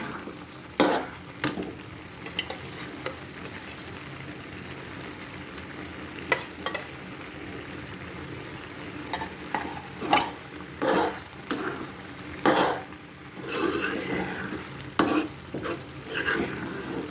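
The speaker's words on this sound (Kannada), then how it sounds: "ನೀರು ಆರೋವರೆಗೂ ಹಿಂಗೆ ತುಪ್ಪ ಹಾಕಿ ಕಾಯಿಸ್ಕೊಳ್ಳಿ" Grated carrot for carrot halwa cooking in ghee in a pan, with a soft continuous sizzle broken by repeated scraping and clattering strokes of a spoon stirring against the metal at an irregular pace.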